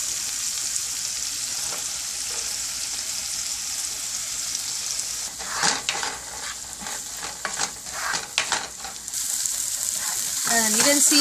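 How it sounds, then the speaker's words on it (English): One medium onion fries in a pan for palak paneer, a steady close sizzle with a burst of stirring scrapes and clatter in the middle before the hiss settles back. "I'll be putting my onions, and we have to cook that until it's translucent"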